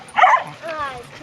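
A wet dog named as a habitual barker gives a short, loud burst of yipping barks near a swimming spot during ball play, followed by a softer whining tone.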